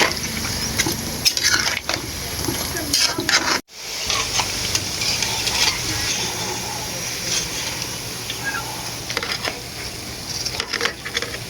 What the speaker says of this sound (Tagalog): At kapag mainit na nga itong kawali mga idol ay isa-isa na nga natin isasalang itong mga bilog.